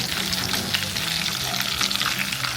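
Prawns fry in hot oil for crispy honey garlic prawns, a steady close sizzle and bubbling that runs continuously with some clatter as they are lifted out.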